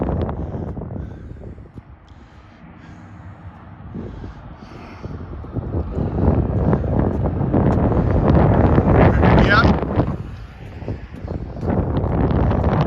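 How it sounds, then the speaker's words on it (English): Strong wind buffets the microphone on a night walk along a riverfront, a loud, roaring gusty rush that swells and eases over several seconds with no talk. "Basically in the wind tunnel now."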